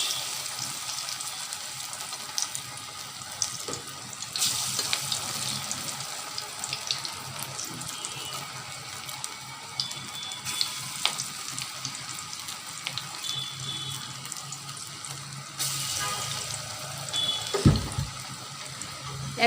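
Moringa leaf pakoras fry in hot oil with a steady, close, water-like hiss and crackle that swells and fades throughout, with no voices.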